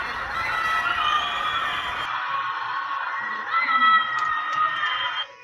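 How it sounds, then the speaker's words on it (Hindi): People screaming and shouting from apartment balconies during a strict lockdown in China, a dense distant mass of wailing voices echoing between buildings, steady throughout, with a brief louder swell near the end. "लोग अपनी बैल्कनी से चीखने लग रहे हैं,"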